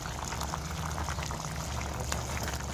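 A pot of curry simmers as onion-coconut paste is added and stirred in, with a dense, continuous bubbling and sizzling close up and no break through the whole stretch.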